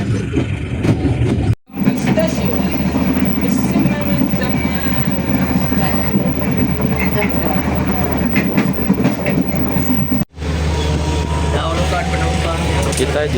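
A commuter line train running between stations, heard from inside as a loud steady rumble with rhythmic clickety-clack of wheels over rail joints, broken by two brief dropouts.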